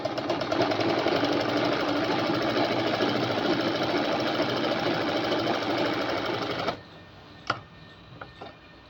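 A sewing machine stitches folded fabric for a suit, a fast, steady mechanical rattle running close and loud for several seconds before stopping abruptly, followed by a few faint clicks and handling taps.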